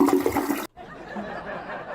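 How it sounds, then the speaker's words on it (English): A toilet flush sound effect plays from a soundboard: a loud, close burst that cuts off sharply, followed by a softer, steady watery hiss that trails on to the end. "We've added a toilet flush sound."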